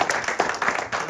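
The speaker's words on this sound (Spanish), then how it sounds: "Nosotros le damos un aplauso," A church congregation applauds after a sermon, a short burst of brisk clapping that sounds moderately near and ends after about a second.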